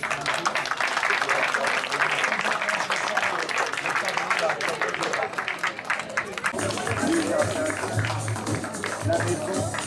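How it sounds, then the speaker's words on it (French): Applause and clapping from a crowd at a garden opening ceremony, steady and fairly loud, mixed with voices and murmuring throughout. "Alors, applaudissements."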